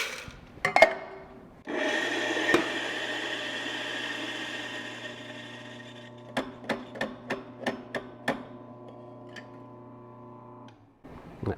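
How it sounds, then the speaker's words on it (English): Coffee beans grind for Chemex brewing in a steady whirring drone of about nine seconds, close and moderately loud, broken near the end by a run of sharp knocks before it stops. "go ahead and grind my coffee"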